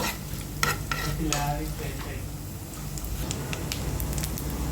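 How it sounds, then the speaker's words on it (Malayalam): Steady crackling sizzle of coconut pieces frying in a pan, with occasional scraping stirs, loud and close, no voices. "തേങ്ങാക്കൊത്ത് വറുത്തെടുക്കാൻ"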